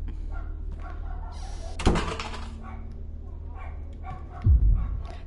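Small dogs bark across the street, a few distant yips and woofs against a quiet room, with a sharp nearby clatter partway through and a low thump near the end.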